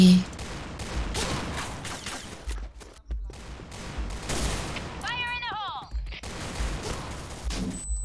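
Rapid bursts of gunfire from the online shooter Point Blank crackle repeatedly in quick volleys, loud and close, with brief pauses between strings of shots and a descending whistle-like game effect midway, under excited talking.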